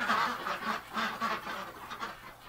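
Several ducks calling in a rapid series of nasal, honking quacks, fairly close and loud, with no talking over them.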